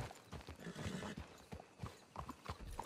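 Horse hooves clip-clop in Red Dead Redemption 2 as a mount walks in a steady, close rhythm, accompanied by a faint whinny and some quiet background ambience.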